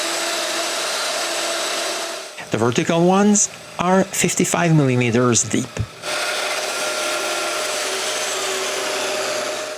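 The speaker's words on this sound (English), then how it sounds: "Now I just need to mark where I want the domino mortises and drill them." A domino joiner cutting mortises in wood for a closed bookcase makes a loud, steady whine that drops out briefly while someone speaks, then resumes.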